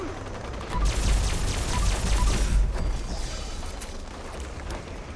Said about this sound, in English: Run before the alien missiles hit.